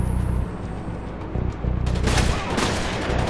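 Rapid bursts of gunfire from the video game Rainbow Six Vegas 2, a loud dense fusillade of shots and booms filling the whole stretch with no pause.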